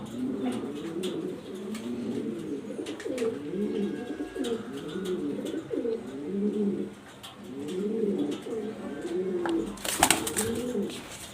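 Orna Shirting pigeons cooing steadily in repeated rolling phrases, close and clear, with a brief louder flutter or clatter near the end.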